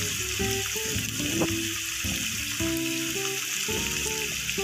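Spices sizzling in hot oil in a pan while being stirred for Bengali-style matar ghugni, a steady close frying hiss with scraping stir sounds over it, no talk.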